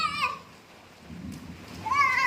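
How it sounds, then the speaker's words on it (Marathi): Steady rain hisses in the background while voices speak briefly at the start and again near the end. "मस्त पाऊस पडतोय"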